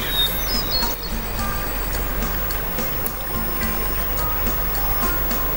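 Steady broad rush of water flowing in a forest stream where wild animals come to drink, continuous and fairly close throughout.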